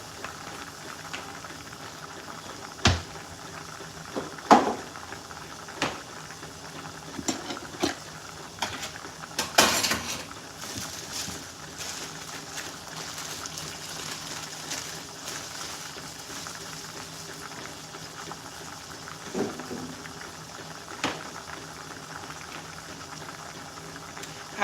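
Potatoes boil in a pot on a home kitchen stove, a soft, steady bubbling under faint room noise, broken by a few light clinks and knocks of pots and utensils.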